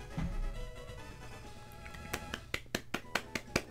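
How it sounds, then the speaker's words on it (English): Sparse, light hand claps of a slow golf clap during a Ben 10 Omniverse let's play, about half a dozen soft separate claps over quiet game background sound. "Golf clap."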